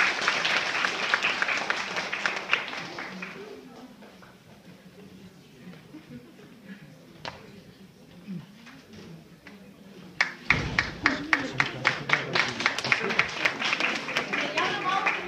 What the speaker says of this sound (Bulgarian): И сега вашите аплодисменти за представителя на Луковит, Диляна Даниелова Иванова с ръководител Теодора Соколова.